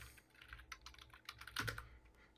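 Rapid, uneven tapping of keys on a computer keyboard, close and fairly quiet, with a few heavier keystrokes near the end.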